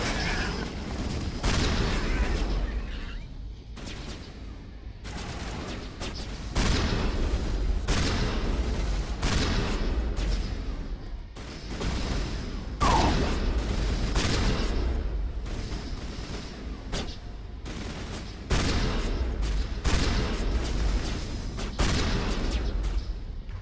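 Rapid gunfire bursts from an overheating weapon in the video game Mass Effect Legendary Edition, during a battle on Asteroid X57: dense, loud volleys that repeat through the whole stretch, broken by short gaps, with a faint voice underneath.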